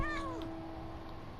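A fat cat character in a video game meows, a clear drawn-out meow with a falling pitch near the start over a steady tonal game background.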